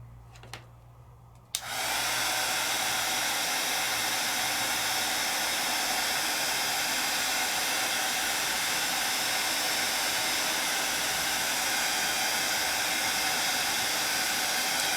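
A heat tool blows hot air steadily to set black embossing powder on black card in a craft demonstration, a loud continuous roaring hiss that starts abruptly after a quiet moment and runs unbroken to the end.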